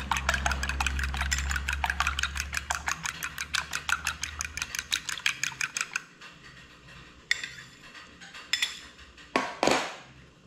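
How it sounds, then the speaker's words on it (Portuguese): A whole egg is beaten by hand in a bowl to join the white and yolk, producing a fast, regular run of sharp clicking strokes that stops partway through, followed by a few scattered clinks. "Bate ele bem para juntar a clara e a gema."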